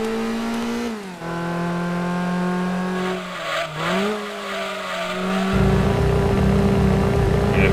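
A Honda Integra racing in the video game Gran Turismo 2, its engine whining at steady high revs, dipping and rising through gear shifts, then giving way to a loud rough rumble near the end, no talking.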